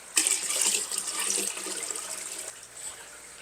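Water from a tap rushes into a bucket for an aquarium, a bright, steady splashing hiss that starts abruptly, fills the foreground, then softens slightly before surging again at the end.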